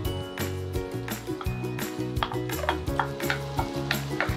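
Garlic sizzles in melted butter in a pan for buffalo wing sauce, a steady soft crackle with light stirring scrapes beneath rhythmic background music.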